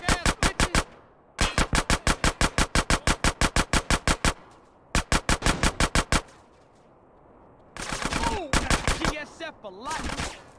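Machine pistol fired in GTA San Andreas, rapid evenly spaced automatic bursts with short pauses between them, loud and close, followed by a noisier stretch with a voice speaking over more shots.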